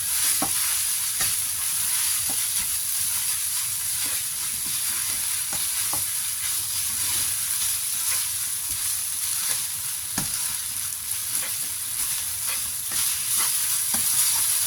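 Ingredients stir-fried in a hot pan with a splash of soy sauce give a loud, steady sizzle broken by regular scraping strokes of the spatula, close up and with no talking.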